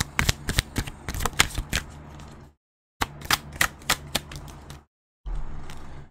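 Tarot cards are riffled and shuffled up close in quick clicking bursts, broken by two short silences, then a card slides out with a softer, steady rustle.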